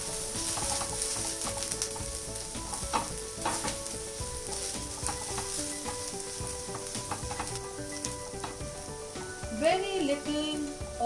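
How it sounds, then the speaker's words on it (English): Chopped garlic shallow frying in a teaspoon of oil, a steady close sizzle with occasional stirring scrapes and clinks against the pan. "And now we will fry some garlic, chopped garlic. Just shallow fry it."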